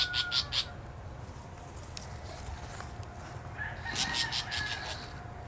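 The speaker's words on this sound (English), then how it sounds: "That noise of bird was from their mother guarding around." A mother bird guarding her nest of young calls out in short bursts of sharp, repeated cries at the start and again near the end, with quieter outdoor ambience in between.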